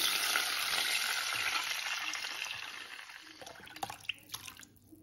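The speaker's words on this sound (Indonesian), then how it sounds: "ini bawang putihnya udah mateng, lalu aku masukkan airnya" Water goes into a pan of fried golden garlic, starting as a loud, close hiss and rush. It fades over several seconds, leaving a few scattered clinks at the end.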